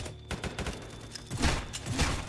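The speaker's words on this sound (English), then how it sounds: "MTF is shooting us for some reason?" Rapid gunfire in the Roblox game rBreach crackles in quick, close bursts, tightly spaced and fairly loud across the short moment.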